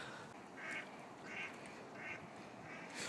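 A duck quacks four times in an even rhythm, each call short and fairly faint over a steady background hiss.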